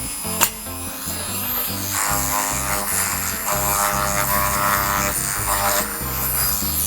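A small universal mini machine running at full power engraves lettering into metal with a conical cutter, giving a steady loud whine and grinding buzz that holds for the whole stretch after a brief click near the start.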